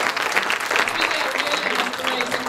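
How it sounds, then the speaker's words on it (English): Audience applause for Chaitanya at a celebrity meet and greet in New Jersey, a steady, dense wash of clapping from a crowd that holds at an even level, with faint voices mixed in. "we need to really give a big clap to Chaitanya"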